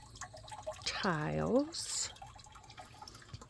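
A garden water fountain topper with moss growing in it trickles and drips quietly and steadily in a yard, partly under a person speaking briefly.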